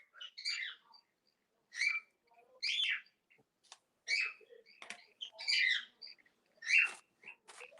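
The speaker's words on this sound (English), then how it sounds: "Bird." A bird chirps in short, separate bursts of quick tweets spaced irregularly over several seconds. The calls are faint and sound fairly distant against a quiet background.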